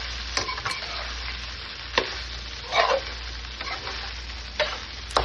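An onion mixture for poha is stir-fried in a pan, with steady sizzling under repeated spatula scrapes and sharp clicks against the metal, close and fairly loud.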